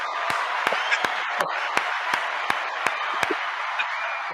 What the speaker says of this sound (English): Pause for just a second for a round of applause.